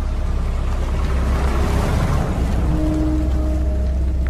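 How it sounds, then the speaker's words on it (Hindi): Heavy rain pours in a steady dense hiss that fills the whole stretch, loud and even, with a low rumble beneath and a faint hum toward the end. "जोरों से बारिश होने लगी थी।"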